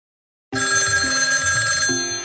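A parrot mimics a ringing telephone, producing a steady, loud electronic-style ring with bright tonal harmonics, sounding alone and close for about two seconds.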